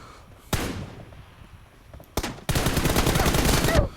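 Gunfire in the mobile battle royale game PUBG Mobile: a single loud shot, then another, then a rapid automatic burst lasting over a second, close and sharp.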